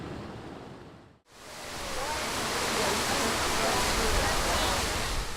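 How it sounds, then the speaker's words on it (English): Water flowing steadily at an outdoor memorial with walls, a broad continuous rush like a fountain or falling water, close and fairly loud after a brief silent gap at the start. "the soothing sounds of these waters"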